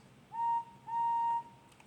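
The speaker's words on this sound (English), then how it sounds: "Just then, the two Indians heard a whistle in the distance." Steam engine whistle from a Thomas the Tank Engine toy train story, two sustained steady tones, a short blast then a longer one, clear with no talk.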